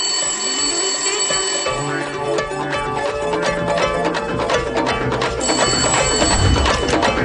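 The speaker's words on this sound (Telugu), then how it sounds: "ఇంకో నెంబర్ నుంచి మనం ట్యాప్ చేస్తున్న నెంబర్ కి కాల్ వస్తుంది సార్" A telephone rings with an incoming call in a crime comedy film scene, a repeated electronic ringtone with bright tonal pulses running over background music for several seconds.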